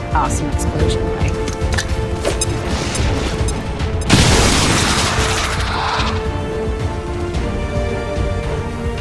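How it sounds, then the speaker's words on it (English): A loud explosion bursts in XCOM 2 at about four seconds, a broad crash that rises over steady game music and battle noise, then fades back into the busy soundtrack. "Besides, awesome explosion,"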